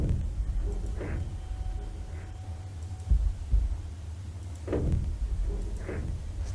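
A heartbeat thumps inside the Nancy Drew game Treasure in the Royal Tower: a pair of deep, muffled beats sounds close together over a steady low ambient hum, then weaker pulses follow, with no talking.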